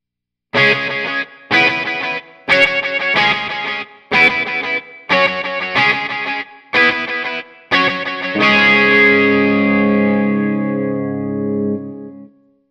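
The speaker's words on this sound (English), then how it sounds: "Nova drive setting number 4, which is distortion and overdrive both on" An electric guitar played through a Nova Drive delay pedal with distortion and overdrive both on, hitting eight sharp, evenly spaced chord stabs before a final chord rings out and fades over several seconds.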